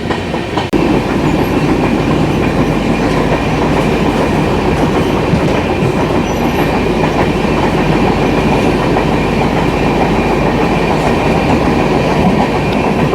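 Ernakulam–Tatanagar Express rolling through Kerala near Palakkad Junction, a steady loud rumble with continuous clickety-clack of wheels over rail joints, sustained throughout with no talk.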